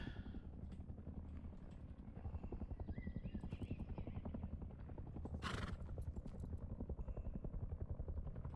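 A horse whinnies in the survival game Rust, a bright rising neigh breaking out over steady low game ambience and rhythmic engine-like rumble near the middle of the stretch.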